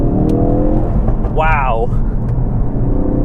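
Remapped Ford Focus RS with a Dreamscience Ultima 2+ exhaust accelerating hard in fourth gear, a loud rising engine note swelling for about a second over steady cabin rumble, with a voice exclaiming.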